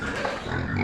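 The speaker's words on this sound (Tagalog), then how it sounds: "Ganda ng mga baboy o." Pigs grunting and oinking close by on a farm pen, a dense continuous chorus of snorts and low squeals with no pauses.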